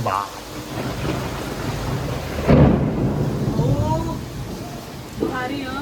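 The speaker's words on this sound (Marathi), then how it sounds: "पाऊस एवढा भयंकर सुरू आहे अंधार अंधार झालाय पूर्ण आणि विजा एवढा खडखडाट आहे" Heavy rain pours steadily in darkness while thunder and lightning crack and rumble loudly in the middle; a voice speaks briefly at the start and end.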